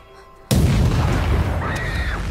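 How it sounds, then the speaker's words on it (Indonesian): A motorcycle explodes in a 2024 thriller film, a sudden loud boom followed by a long sustained roar and rumble, with a faint rising whine later in the tail. "Namun, tiba-tiba motor tersebut meledak."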